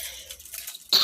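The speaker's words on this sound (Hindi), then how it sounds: "सॉरी, खांसी हो रही है।" A woman coughs once, abruptly and up close, during a pause while cooking at home; the single harsh burst comes near the end after a quiet stretch of faint room noise.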